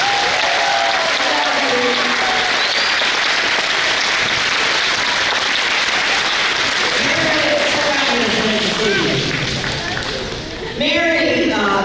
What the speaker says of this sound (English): let's give Mrs. Leslie a round of applause